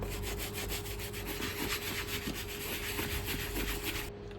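A Red Wing leather boot scrubbed hard with a brush during resoling, giving continuous, loud, close rasping strokes in a quick even rhythm that stop abruptly at the end.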